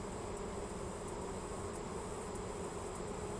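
Dense, steady buzzing of many honeybees swarming close around an opened hive during a late-August inspection, a continuous loud drone with no pauses and no talking.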